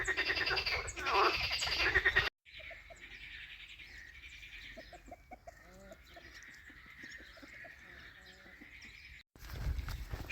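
Dense chorus of croaking frogs with scattered clucking, surrounded by louder outdoor bursts at the start and end; no speech.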